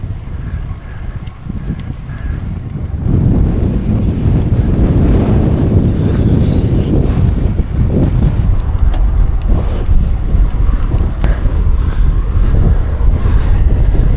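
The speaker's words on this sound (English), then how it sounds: "this wind is horrendous" Strong headwind roars across the microphone while cycling, a heavy low rumbling buffet that swells after the first few seconds and stays loud and steady throughout, with no talking.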